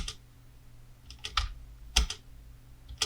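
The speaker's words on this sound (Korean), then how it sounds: "홈키 누르고 스페이스바 누를게요" Several key presses on a computer keyboard, the Home key followed by the spacebar, giving a few separate clicks and taps with short pauses between them, close and fairly quiet, with no speech.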